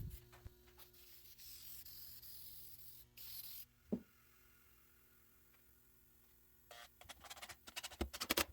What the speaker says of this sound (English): For the mahogany, I'm going to use some spray shellac to bring out those natural brown and red tones.